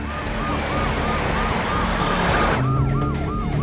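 A police car siren wails continuously as an Indiana deputy pursues a fleeing car, the rising and falling tone loud and close over steady road and engine noise, with the pitch shifting partway through.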